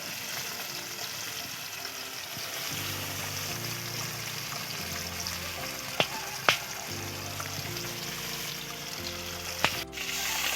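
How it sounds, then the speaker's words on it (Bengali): Small pomfret fish fry in a pan of hot oil with a steady, close sizzle, broken by a few sharp clicks and taps from utensils; no voices. "ছোটো মাছ তো অল্প অল্প করে ভাজবো।"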